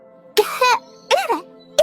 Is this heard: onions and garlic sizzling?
no